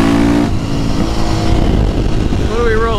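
A KTM 450 supermoto motorcycle fitted with new supermoto wheels, tires and sprocket revs and accelerates loudly close by, its engine note climbing steadily with a continuous droning roar.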